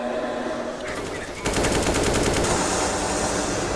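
Rapid automatic gunfire in a Counter-Strike match on the Inferno map, fired through a wall as a wallbang; bursts intensify into a loud sustained volley under faint crowd or caster noise.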